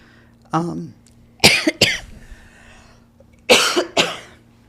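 Several harsh coughs in short bursts, one single then two clusters, close to the microphone in an otherwise quiet room.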